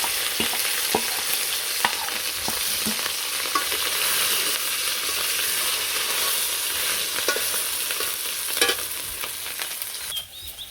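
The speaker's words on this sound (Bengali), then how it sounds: "এখন আমি কড়াইতে তেল দিয়ে দিছি, এই ডিমগুলো এখন ভেজে নেব" Eggs frying in oil in a wok in a village kitchen, a continuous close crackling sizzle with scattered sharp pops and occasional utensil clicks throughout.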